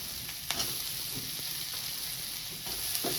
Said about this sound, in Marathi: कांदा आपल्याला मऊ होईपर्यंत भाजायचा आहे तेलामध्ये आता हा आपला कांदा भाजत आलेला आहे ह्याच्यामध्ये मी टोमॅटो टाकते